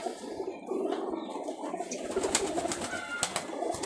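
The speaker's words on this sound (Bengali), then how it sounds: "এই আর এক জোড়া কবুতর দেখাচ্ছি।" A pair of high flyer Giribaz pigeons, a red mushki cock and a hen, coo softly and continuously in a quiet loft, with faint rustling around them.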